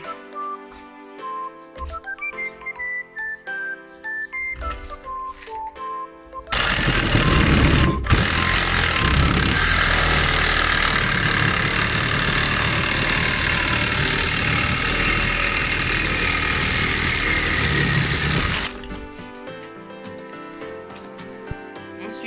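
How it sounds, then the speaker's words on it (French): A Parkside reciprocating saw in non-pendulum mode starts abruptly and cuts loudly for about twelve seconds with a dense, buzzing rattle, then stops, with music playing before and after. "Je vais commencer sur la mode pas pendulaire avec cette lame."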